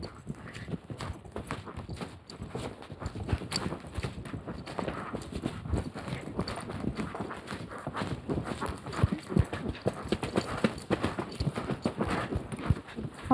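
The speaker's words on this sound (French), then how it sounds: "Là, faut se lancer dans un trot allongé, Ace, pour y aller." A horse's hooves beat in an extended trot during a French dressage-style riding session, a steady brisk clip-clop rhythm close by, with faint voice in the background.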